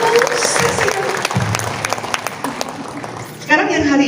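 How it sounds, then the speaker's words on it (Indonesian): Audience applause at a talk about addiction recovery and relapse: a dense, steady patter of clapping hands lasting several seconds, with voices talking over it. "Boleh tepuk tangan buat mereka, Bu."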